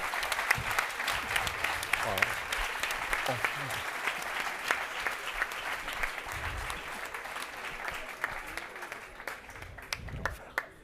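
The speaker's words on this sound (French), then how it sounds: "On les applaudit bien fort." An audience at a medical simulation competition final claps loudly and continuously after a scenario ends, dense applause with a few voices mixed in underneath.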